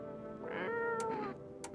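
A cat in a video game gives a short, clear, mid-pitched meow, preceded by faint rustle and followed by a few light ticks.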